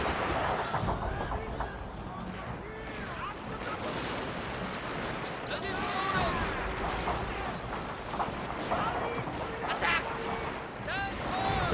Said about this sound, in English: Watch these guys get shot.